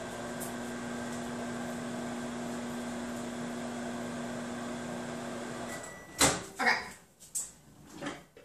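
A microwave oven hums steadily, then its door is slammed shut with a loud bang, followed by a few more clattering knocks nearby.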